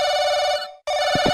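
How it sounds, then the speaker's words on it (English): Telephone ringing inside a room in the horror video game Paranoiac, a loud, steady electronic ring that breaks off briefly and then starts again, heard alone. "Oh god, it's a telephone. In this room."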